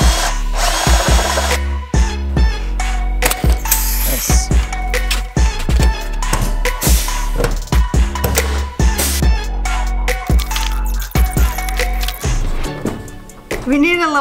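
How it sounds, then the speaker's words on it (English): A power drill bores rivet holes in sheet metal for underbody storage on a converted school bus, loud whirring bursts that start and stop repeatedly with clanks between them and voices now and then. "it's much easier for Brian to drill the holes"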